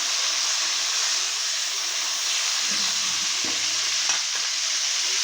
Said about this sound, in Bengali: মাছগুলো আমি লাল করে ভেজে নেব